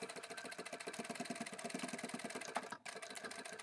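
A sewing machine stitching a fabric multi-pocket wallet and card holder runs in a fast, steady mechanical whir with rapid regular needle beats, briefly pausing near the end before resuming.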